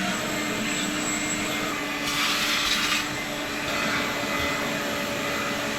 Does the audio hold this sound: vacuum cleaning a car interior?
yes